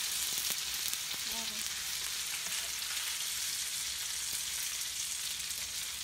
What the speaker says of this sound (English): you put in your peas. And then stir it and then wait a minute to let it cook.